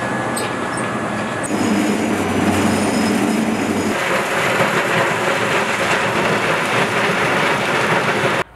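Coal train wagons roll along a railway siding at a colliery coal handling plant, a loud, continuous rumbling clatter that holds steady for several seconds before cutting off abruptly.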